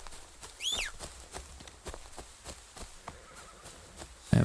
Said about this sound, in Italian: Mettiamoci su un cavallo magari.